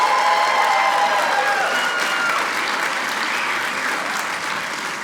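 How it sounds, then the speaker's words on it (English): A comedy-show audience in Provo, Utah claps a sustained round of applause for married couples, dense and steady, gradually fading, with some shouts mixed in. "Clap a round of applause if you're married."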